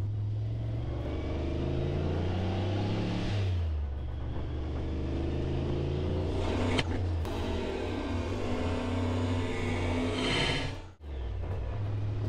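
A car engine revs hard under acceleration, a loud sustained roar rising in pitch, pausing, then building again before a sharp drop near the end.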